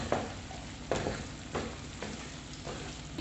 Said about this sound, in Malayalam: കടല ചേർത്ത് കൊടുത്ത് ഇതിൽ നന്നായിട്ട് മിക്സ് ചെയ്തെടുക്കണം.